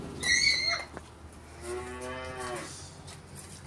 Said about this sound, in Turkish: Sağım saati yaklaşıyor. İnekleri ayaklanmış.